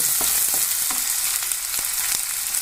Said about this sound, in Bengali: আমরা পেঁয়াজটাকে ভেজে নেব হালকা করে